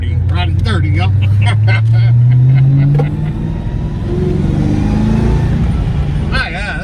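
A 1995 Ford Mustang Cobra engine while driving, loud and close from inside the car, climbing in pitch through a gear before settling. A voice speaks over it in short bursts.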